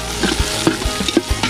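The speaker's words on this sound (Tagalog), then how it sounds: "Sili, bawang sibuyas at luya. Halo na yan. Halo-halo na po." Chili, garlic, onion and ginger are stirred in a hot frying pan, with rhythmic scraping strokes about every half second over a close, steady sizzle and no voices.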